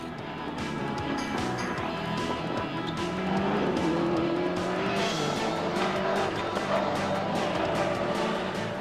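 Rally cars race on the Kielder forest stage at the 1996 Pirelli International Rally, a loud, sustained engine roar with rising revs and brief tyre squeal, close by and continuous.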